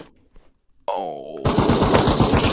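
Machine gun fire in a World War video game breaks out suddenly after a short quiet stretch and a brief rising tone, then runs as a loud, rapid burst that fills the rest of the moment.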